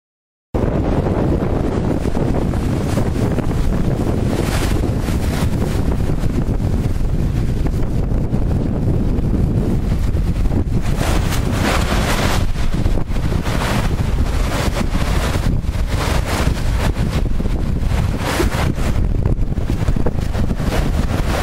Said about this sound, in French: La plagette avec beaucoup de vagues, des déferlantes qui vous auraient projeté le long de la digue.